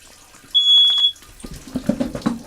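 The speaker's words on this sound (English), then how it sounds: "Just a quick couple beeps." An electronic vape mod gives a single clear, high steady beep lasting about half a second, followed by quieter fumbling and handling noise.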